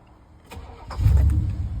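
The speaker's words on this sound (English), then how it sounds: "Start our truck." A 1997 Chevy 1500 pickup's engine cranks briefly and then catches, rising into a loud, rough low rumble as it settles toward idle.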